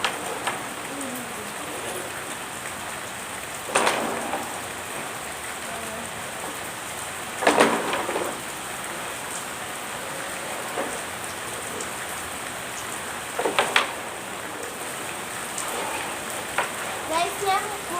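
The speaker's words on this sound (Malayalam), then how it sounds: "നല്ല അടിപൊളി മഴയുണ്ട് ഗൈസ്." Heavy rain pours down steadily in a wide, continuous hiss, with a few sharper knocks and splashes rising above it now and then.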